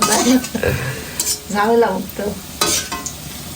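Sweet banana fritters fry in a new wok, with stirring and clattering of utensils against the pan over a light sizzle, in short bursts through a few seconds.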